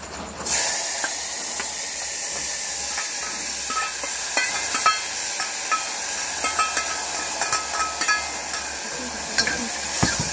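Vegetables hitting a hot pan with cumin seeds burst into a loud, steady hissing sizzle that starts abruptly and keeps going for about ten seconds, with small crackles and pops scattered through it and no voices.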